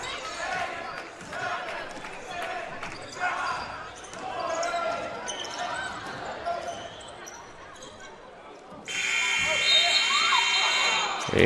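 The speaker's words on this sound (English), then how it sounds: "and King puts up a shot at the buzzer that would not have counted had it gone" A basketball game buzzer sounds loud and sustained near the end, following crowd and gym noise with commentary voices at a men's college game against Central Bible College.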